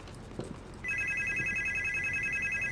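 Flip phone ringing in the horror game Supernormal: after a few soft thumps, a loud, steady electronic ringtone starts and repeats its pulsing tone continuously, close and clear with no talking.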